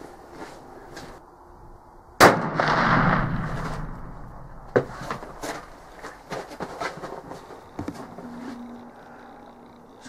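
A single sharp muzzleloader rifle shot from a Traditions Pursuit loaded with Blackhorn 209 powder, a loud crack followed by a rumbling boom that decays over a second or two, with faint outdoor sounds afterward.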